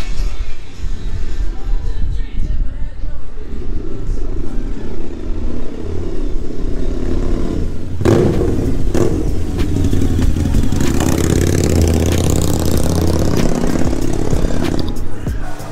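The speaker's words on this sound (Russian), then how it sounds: "катаются мотоциклы." Motorcycles ride past and idle nearby in a steady engine rumble, with louder revving surges around the middle and later on. No one speaks.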